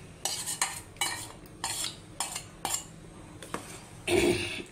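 Ground coconut and yogurt paste being scraped from a bowl into a pot of mango pulissery curry: a run of close, short clinks and scrapes of a spoon, ending in a louder, wetter plop and scrape. No talking.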